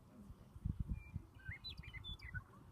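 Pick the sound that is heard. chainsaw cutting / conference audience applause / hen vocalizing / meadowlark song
meadowlark song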